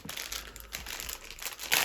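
A thick, tightly packed plastic parcel bag crinkles and rustles up close as it is opened, in irregular bursts that end in a sharper crackle.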